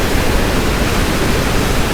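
Steady broadband roar of a waterfall at Dantewada in Chhattisgarh, one of seven falls there, heard as a continuous dense rushing wash with no pauses and no voices.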